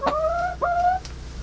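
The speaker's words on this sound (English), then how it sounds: "You guys are celebrity chickens." Backyard chickens give two short, bright, rising-and-falling calls close by, each about half a second long, with a low steady hum underneath and no talking.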